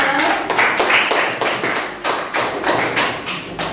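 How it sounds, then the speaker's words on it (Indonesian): A classroom of students claps for a group after a correct answer, a burst of uneven, close hand claps with distinct individual slaps throughout. "Beri tepuk tangan untuk kelompok 5."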